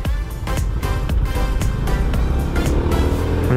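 Cars in road traffic with drivers going against the flow, a dense continuous roar of engines and tyres close by, with repeated passing surges and no speech.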